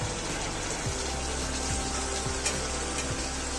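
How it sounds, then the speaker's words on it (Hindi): Goat liver (kaleji) sizzles steadily in a hot pan as its released water cooks off, a continuous close frying crackle with occasional stirring scrapes and no talking. "देखिए पानी इसका जल रहा है।"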